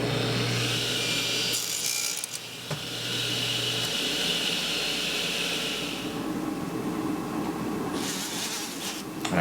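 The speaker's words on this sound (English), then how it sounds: "Then we're going to cut them to size and do an initial sanding." Wooden knitting needles being sawn to size and sanded in a workshop, a steady, close rasping and scraping that runs continuously with short pauses and shifts in intensity.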